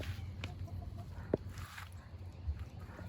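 Backyard hens cluck softly and intermittently at close range over a low rustling background, with one sharper squawk partway through and no talking.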